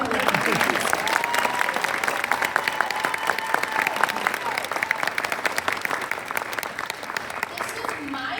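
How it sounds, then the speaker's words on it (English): An indoor school audience applauds students after a US Constitution game show, with dense, sustained clapping from a crowd and voices mixed in throughout. "give them a round of applause"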